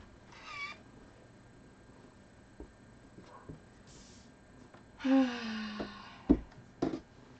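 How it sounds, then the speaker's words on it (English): A cat meows indoors, at first faintly and then in a clearer cluster of several meows near the end, over quiet room noise with occasional soft clicks. "No, the cat does not want to play with you."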